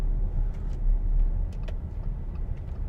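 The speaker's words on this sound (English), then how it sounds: "This engine has just so much torque" Inside an Audi Q7 on the move, a steady low engine rumble mixes with road noise, a constant hum with faint ticks and no voices.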